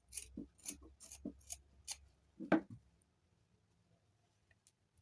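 Quiet, crisp snips of scissors trimming a push-up bra cup, several rhythmic cuts in quick succession followed by one sharper snip, then near silence with faint handling.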